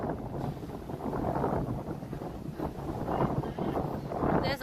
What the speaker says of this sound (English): This wind is very comfortable.